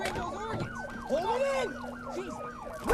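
A wailing ambulance siren in a video game sweeps up and down repeatedly and loudly, with a steady tone underneath and a voice talking over it.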